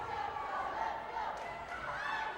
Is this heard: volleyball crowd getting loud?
yes